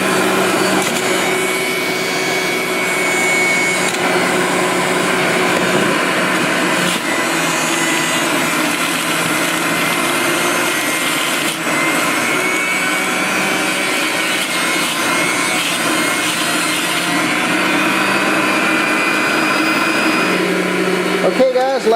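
Electric juicer running at higher speed while apples go in after oranges, a loud steady close whine and grinding hum lasting throughout.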